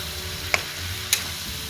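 Long beans, carrot and onion sizzle steadily in a hot wok, with two brief sharp scrapes of a utensil stirring; no voices.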